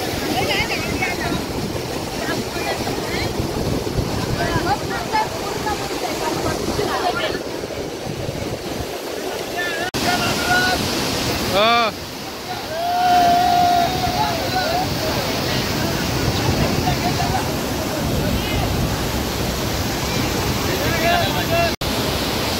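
Rushing water at Nigade dam, a loud, steady, broadband roar that fills the whole stretch, with faint crowd murmur and wind buffeting the microphone.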